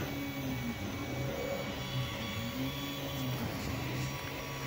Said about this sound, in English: It's a lot harder to see what's printing on this than the other model